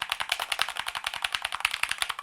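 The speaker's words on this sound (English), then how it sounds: "these keys are tactical and they're responsive, and they give a really, really nice click when typing on them" Fast typing on a Redragon budget mechanical keyboard, a dense rapid run of crisp clicky keystrokes, close and clear with no talking.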